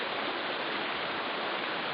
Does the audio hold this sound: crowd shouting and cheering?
no